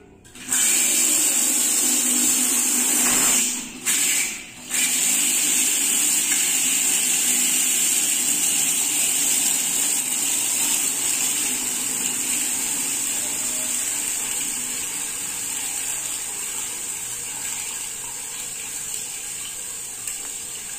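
Water booster pump drawing from a storage tank runs steadily with a tap opened, a loud continuous rush of flowing water with a brief dip early on, then an even, sustained hiss that slowly eases.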